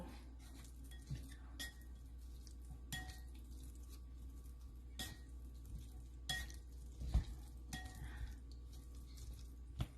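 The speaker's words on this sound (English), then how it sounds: "Now let's mix it and then give it a taste." Vietnamese dry egg noodles being tossed with sauce in a bowl, with soft scattered clinks and scrapes of utensils against the dish at close range over a quiet background.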